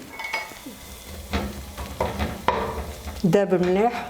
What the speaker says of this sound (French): je vais mettre les carottes avec l'oignon